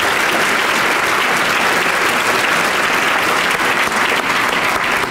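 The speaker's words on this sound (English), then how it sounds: "Let's acknowledge all 3 of these leaders with a round of applause." A large audience at a city's State of the City address applauds three mayors, giving dense, loud, sustained clapping that stays even for the whole stretch.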